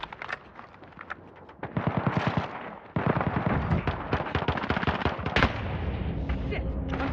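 Gunfire in a video game rattles as rapid, dense bursts of shots through most of the clip, loud and continuous with brief gaps between volleys.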